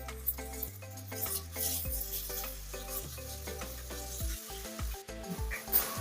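Onions fry with ginger garlic paste and garam masala, making a steady sizzle under frequent spoon stirs and scrapes against the pan, close and without talk.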